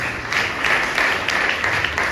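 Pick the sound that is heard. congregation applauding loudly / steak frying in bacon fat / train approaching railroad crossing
congregation applauding loudly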